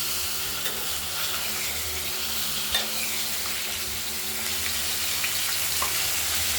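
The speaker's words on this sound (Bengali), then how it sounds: "এবার আরেকটা পিস ভেজে নিলেই মাছগুলো ভাজা হয়ে যাবে" Oil sizzles and crackles steadily in a pan as pieces of rohu fish fry, close and continuous, with a faint low hum underneath and no talking.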